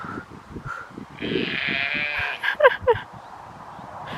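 Sheep bleat loudly nearby, a couple of wavering calls over background chatter and scattered farmyard noise.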